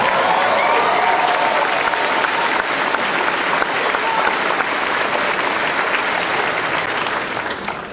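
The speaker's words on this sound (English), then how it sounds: "You now can cheer yourself on that." Graduating students at a college ceremony break into loud sustained applause with scattered cheers, a dense crowd roar that holds steady and begins to taper off at the end.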